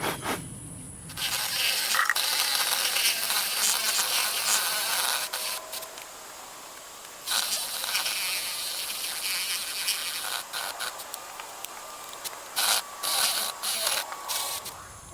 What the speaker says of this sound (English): So I went up to the shop and got one of those power saws. This is going to be a little easier.